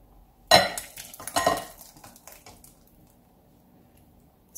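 Homemade coconut sauce is mixed with coconut cream in a bowl. A spoon clinks and scrapes against the dish in a few short bursts, then quiet, with one more knock at the end.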